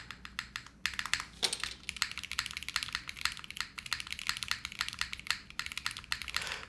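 Keystrokes on a mechanical keyboard fitted with PBT keycaps, a steady rapid clatter of taps with brief pauses, close and clear with no talking.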